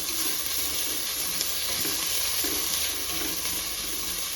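Chopped onions fry in hot oil for biryani with a loud, continuous hiss, while a spoon stirs with faint rhythmic scrapes close by and no talking.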